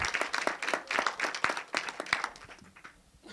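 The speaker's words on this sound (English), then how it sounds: "So, round of applause for Andrei Olaru, critic gaming Interrogation." Audience applause at a Nordic game discovery contest presentation, a modest crowd producing distinct overlapping claps that taper off into a few sparse ones.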